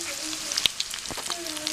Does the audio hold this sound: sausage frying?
yes